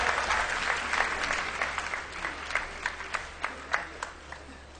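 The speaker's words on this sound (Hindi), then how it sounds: "पिता और पुत्र के इस मिलन को आप जोरदार तालियों से स्वागत करें" Loud applause from an audience at a Pragat Divas gathering in Burari, dense clapping that thins toward the end into a few sharper, scattered claps.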